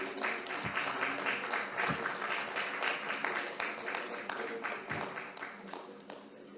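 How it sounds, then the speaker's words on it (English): Audience at a business resilience and risk mitigation summit panel gives a steady round of applause, dense, sustained clapping filling the room with a few sharper claps standing out, fading slightly toward the end. "A round of applause, please."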